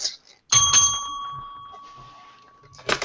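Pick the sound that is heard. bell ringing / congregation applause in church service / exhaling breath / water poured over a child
bell ringing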